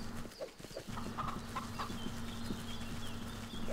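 Chickens cluck in the farming video game Force of Nature, a series of short, quick clucks over a steady low electronic hum and faint background game sounds.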